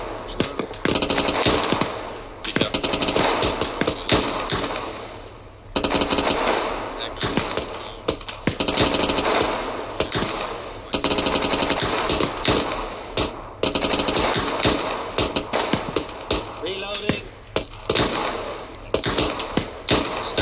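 Automatic gunfire rattles almost without pause in the Arma 3 military game: long, loud, close bursts of rapid shots, broken only by brief gaps, over faint background voices.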